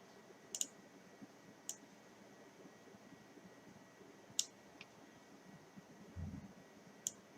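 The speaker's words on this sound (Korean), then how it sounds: "여기에서 시작 클릭하고 들어갈게요." Several sharp, quiet computer mouse clicks on a Windows desktop, spaced irregularly, over a faint background hiss, with a soft low thump near the end.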